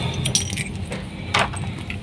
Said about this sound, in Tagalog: Susi.